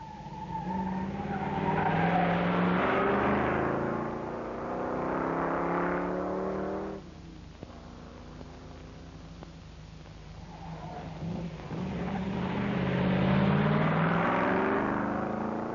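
A Sunbeam Tiger rally car competes in the 1964 Geneva Rally, its engine roaring with tire squeal as it passes, dropping away briefly and then surging loud again.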